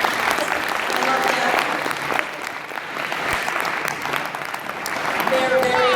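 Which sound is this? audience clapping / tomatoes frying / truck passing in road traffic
audience clapping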